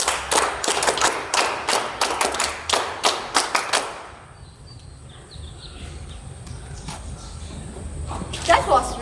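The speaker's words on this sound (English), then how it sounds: "Cadets, NCC clap शुरू कर." NCC cadets clap in unison at a college Republic Day celebration, about a dozen sharp, loud claps in a steady rhythm for roughly four seconds, then quiet room ambience with faint bird calls.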